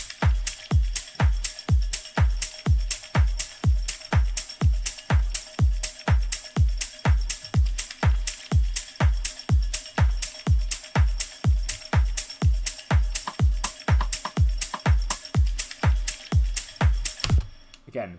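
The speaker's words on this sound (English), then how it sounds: "let me give you just a play of the drums on their own first" Melodic deep house drum loop from a sample pack, with a steady four-on-the-floor kick under crisp ticking hats and percussion, repeating evenly for about seventeen seconds before cutting off; loud and clean with no voices.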